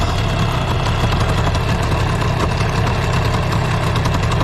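A small, old outboard motor runs steadily nearby, a continuous rough chugging drone with a rattling mechanical edge and no change in pace.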